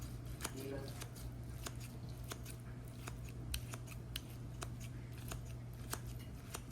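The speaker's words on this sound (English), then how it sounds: "I'll go back in with the scissors on top." Rapid, crisp snips of scissors cutting, repeating irregularly over a steady low hum, fairly quiet and close.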